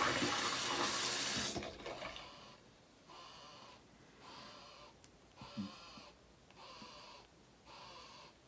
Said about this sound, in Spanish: Poquito más de agua caliente.